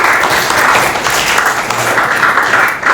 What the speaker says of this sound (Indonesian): Tepuk tangan untuk Satria.